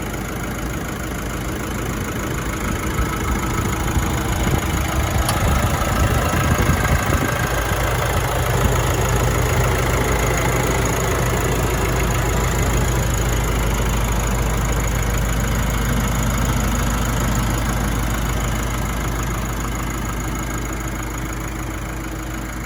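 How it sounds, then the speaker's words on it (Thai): A 2016 Nissan Navara NP300 pickup engine idles steadily at close range, a loud, even low rumble with a constant hum that holds throughout and eases slightly toward the end. "ดูให้ช้านะครับฟังฟังเสียงเครื่องด้วย"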